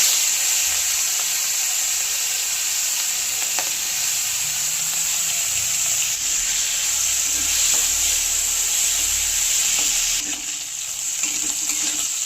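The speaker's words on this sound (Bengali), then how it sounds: "চিংড়ি মাছ ভাজা হয়ে গেছে," Small prawns fry in oil with a continuous loud, bright sizzle held close for the whole stretch, easing slightly near the end, and no one talks.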